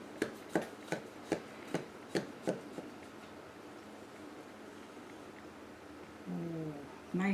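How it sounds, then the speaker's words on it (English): Knife slicing through loaves of banana walnut bread baked in a Cosori air fryer: about eight crisp, evenly spaced cuts up close, then quiet and a brief rustle near the end. "Let's slice it."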